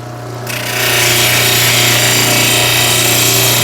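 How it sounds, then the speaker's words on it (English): Water-cooled saw wheel grinding through quartzite stone, a loud steady whine that ramps up over the first second and then holds constant and close. "So hopefully we will have less sound of the wheel as we start cutting away."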